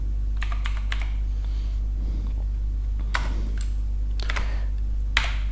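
Python code typed on a computer keyboard, quick clusters of crisp keystrokes with short gaps, close up over a steady low hum.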